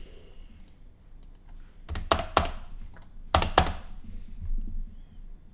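Computer keyboard typing in two short bursts of rapid key clicks, with a few scattered single taps between them, close and clear against quiet room tone.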